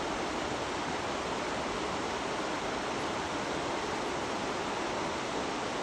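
Steady rushing river water pours over rocks, a dense unbroken hiss that stays even and close throughout.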